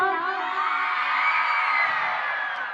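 An audience at a live stage program of Chhattisgarhi songs shouting and whooping together, a sustained loud roar of many voices that swells and holds for nearly three seconds.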